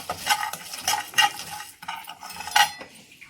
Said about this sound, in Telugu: ఇవన్నీ లైట్గా వేయించుకోవాలి